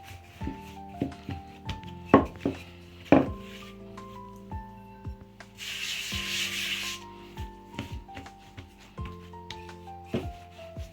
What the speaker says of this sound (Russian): Раскатываю прямоугольный пласт.